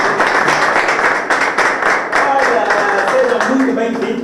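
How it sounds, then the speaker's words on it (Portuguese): A studio audience at a gospel-poetry program in Angola applauds steadily for about four seconds, a dense, loud wash of clapping with a voice speaking over it toward the end. "Uma salva de palmas para vocês."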